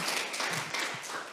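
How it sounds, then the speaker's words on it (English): A live audience applauds a woman after she shares a story at a community transformation training session, with steady dense clapping filling the room from start to finish and no talk over it. "Give her a clap."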